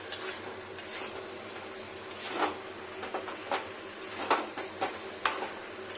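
Chicken kosa cooking in a pan is stirred with a spatula, giving a few soft scraping strokes over a faint background sizzle, quiet and close with no talking.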